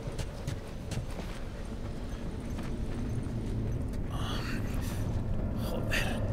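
Clicker infected from The Last of Us Remastered making rapid, rattling clicks that repeat steadily over a low game ambience, with a couple of sharper bursts near the end.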